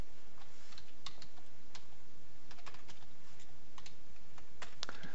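Keys clatter on a computer keyboard in irregular bursts of sharp clicks, close and distinct over a quiet background, with short pauses between runs.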